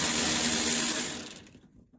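Power tool spinning a tensioner pulley bolt tight on a 2004 Toyota Tundra engine: a loud, close, harsh whirring burst about a second long, then rapid ratcheting clatter that fades to silence.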